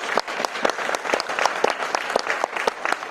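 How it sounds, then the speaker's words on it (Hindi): A meeting crowd claps to show agreement with an uneven, sparse patter of individual claps, close and distinct, continuing for about three seconds. "ताली बजाओ, सहमत हो सके।"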